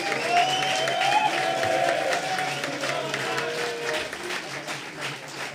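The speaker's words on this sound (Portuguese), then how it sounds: "Vou dar uma salva de palmas aí, ó." Audience applause at a firefighters' commission meeting, moderate clapping from a group heard somewhat distant, with a tonal whistle or voice cutting in and faint background murmur beneath.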